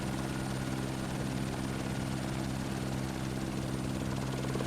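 A helicopter in the survival video game No One Survived flies with a loud, steady rotor thump and engine drone, constant and close throughout, with no talking.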